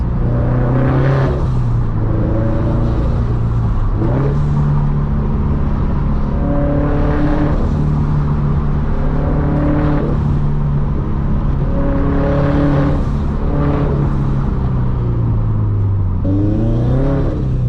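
A turbocharged Subaru BRZ engine drones loudly and close while driving, repeatedly revving up and dropping pitch through gear shifts along an open road.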